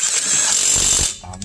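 A 1/2-inch drive 800 Nm impact wrench hammers loose a 22 mm bolt, a loud, close, steady rattling whine that drops away abruptly near the end.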